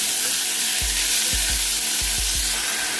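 Sliced onions and chopped garlic fry for an egg roast, a steady close sizzle with a few low thumps from stirring, no voices.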